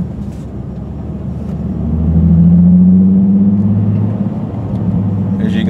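Nissan 350Z fitted with a heavy-duty clutch, slave cylinder and master cylinder, its engine rumbling low and swelling as it pulls through second gear, heard from inside the car.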